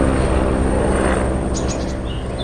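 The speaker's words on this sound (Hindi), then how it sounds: "जंगल के ऊपर से हेलीकॉप्टर जा रहा था।" A helicopter flies over a jungle with a loud, steady rotor and engine drone, while faint bird chirps sound near the end.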